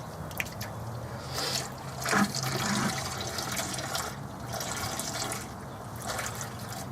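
Coolant drains from the radiator of a 1978 Ford F-100 as a quiet, continuous trickle and splatter of liquid, with faint drips, heard up close on its own.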